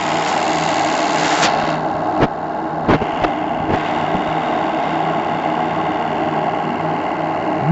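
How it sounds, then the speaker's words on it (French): A steady, loud roar from the burner of a Topaz steam launch boat, continuous and broadband throughout, with a few sharp clicks and knocks over it. "On entend le brûleur."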